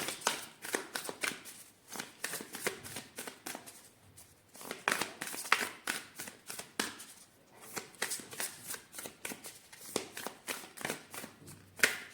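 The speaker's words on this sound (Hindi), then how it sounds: "अच्छा, एक ओरेकल कार्ड निकालते हैं आपके लिए।" A deck of oracle cards is shuffled by hand in soft, papery riffling bursts that come in repeated runs with brief pauses, close and quiet.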